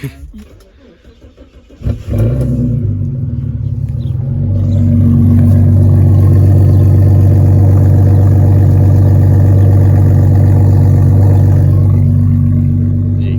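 A Ghia car's engine, with no exhaust past the catalytic converter, cranks and catches after a quiet start, then settles into a steady, loud warm-up idle that hums on with little change.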